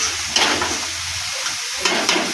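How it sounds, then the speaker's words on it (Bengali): Eggplant sizzles steadily in a hot pan, with a couple of brief scraping stirs rising above the continuous frying hiss. "এবার নাড়া নাড়া দিয়ে দিলাম,"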